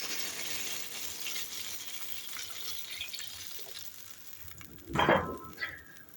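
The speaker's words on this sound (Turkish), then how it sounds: "Kaynatmış olduğum suyumu göz kararı ekliyorum." Boiled water poured into a pot of bean stew with meatballs, heard as a soft background sizzle that gives way to a sudden louder splashing gush near the end.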